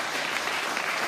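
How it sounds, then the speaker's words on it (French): A church congregation bursts into sustained, dense applause and cheering, a steady wash of clapping with no gaps, close and loud throughout. "Est-ce qu'on peut acclamer Jésus?"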